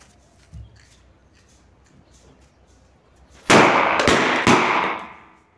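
A loud firecracker blast erupts after a few quiet seconds as a firecracker goes off inside a bottle, followed by a burst of crackling pops and a couple of sharp bangs that fade out.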